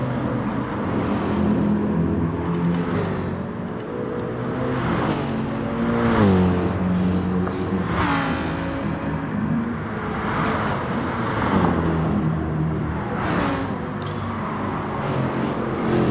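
Race car engines, a Jaguar among them, drone and rev continuously in a sim racing game, with pitch rising and falling through gear changes as cars pass close by.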